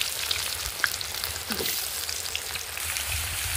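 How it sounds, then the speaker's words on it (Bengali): Cut potatoes fry in hot oil with cumin seeds, giving a steady, dense sizzle with a few clicks and stirring knocks from close by. "এবার আমি কেটে রাখা আলুগুলো এর মধ্যে দিয়ে দিচ্ছি।"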